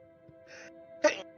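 A quick sneeze at a tabletop game session, a short breathy build-up followed by a sharp burst, near and moderately loud, with a faint steady background hum.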